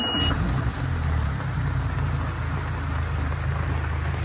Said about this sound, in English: And then here's the motor start.